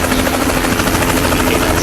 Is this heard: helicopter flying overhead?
yes